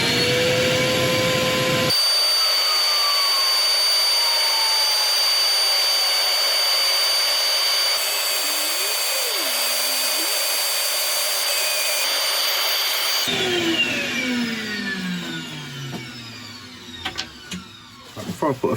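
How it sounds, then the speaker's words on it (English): A loud, steady whooshing whir fills the air for about eleven seconds while a turned wooden bottle opener is sanded on a woodturning lathe, then cuts off abruptly, leaving quieter scattered knocks and rustles. "so I'm going to start sanding"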